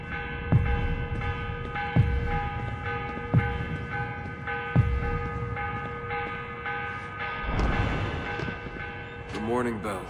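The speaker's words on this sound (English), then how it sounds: "The morning bell. God, I hated that." A large bell tolls the morning call in the Assassin's Creed: Revelations video game, four evenly spaced ringing strikes with long humming decay, followed by a swelling, wavering tonal swirl near the end.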